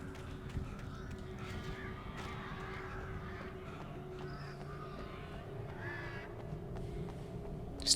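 Crows caw repeatedly in a video game, harsh calls rising over a low steady ambient hum, some near and some farther off.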